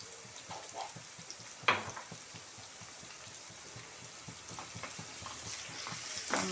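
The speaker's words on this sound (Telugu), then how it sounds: "మగ్గన ఉల్లిగడ్డ ఈ విధంగా వేగిందండి." Onions for a brinjal curry sizzle and crackle softly in a pan, a steady faint frying hiss with a few sharper pops, close by and without talk.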